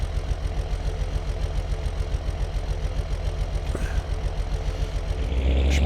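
A tractor engine idles steadily up close, a continuous low rumble with a rhythmic mechanical pulse, rising slightly louder toward the end.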